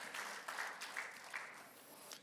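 Brief, faint applause from a church congregation at a Sunday worship service, scattered clapping in a reverberant room that lasts a couple of seconds.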